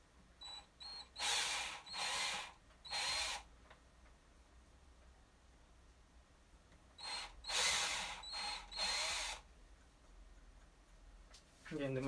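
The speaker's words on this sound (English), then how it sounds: "Drill those holes." A power drill whirs in several short bursts, drilling holes in soft material on a kit guitar, pausing between each, with a longer group of bursts after a quiet gap; close and fairly loud.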